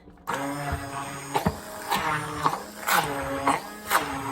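Raw egg yolk is whipped into a mashed egg mixture with a steady whirring drone that surges and dips in repeated pulses, close and continuous for several seconds.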